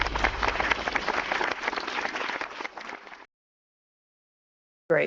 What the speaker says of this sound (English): we clap for you.